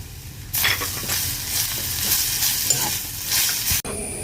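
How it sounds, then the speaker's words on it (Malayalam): Grated coconut roasts in a pan with shallots, garlic and curry leaves for an Onam sadya masala curry, a steady close sizzle with stirring scrapes that starts abruptly and cuts off near the end. "ഈ നാളികേരം വറുത്തെടുക്കാം കേട്ടോ."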